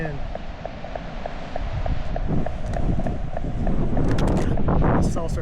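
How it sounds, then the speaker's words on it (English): Strong wind roars across a mountain summit beside a fire tower, a steady loud buffeting rush that builds stronger midway, with faint rattling and creaking from the tower. "God, this wind is unreal. Can you hear that fire tower?"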